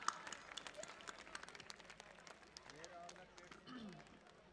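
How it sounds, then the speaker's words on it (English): A school event audience gives a round of applause, a faint, scattered clapping texture from a crowd heard at a distance, with a voice speaking over it. "a huge round of applause."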